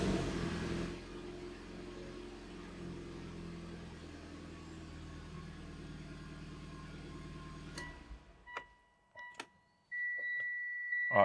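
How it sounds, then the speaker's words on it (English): A Mitsubishi Evo X fitted with a MoTeC M1 ECU idles with a steady low engine hum after starting, which cuts off around eight seconds in, followed by scattered clicks and a high electronic tone. "now with our car running, we can take it to the tuner for our final tune"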